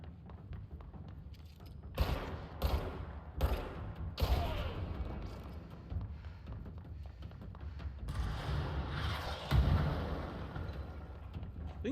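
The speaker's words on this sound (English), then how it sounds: "Things are exploding. Let's run away from the exploding things." Booming explosions and scattered gunshots in a video game firefight, with several sharp blasts early on and a heavy rumbling burst later, all fairly loud and close.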